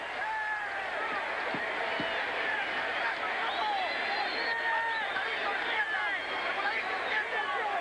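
Boxing crowd roaring at the Pernell Whitaker vs Jose Luis Ramirez fight, a steady dense wall of cheering, whistles and excited babble that swells slightly midway as Whitaker escapes the corner.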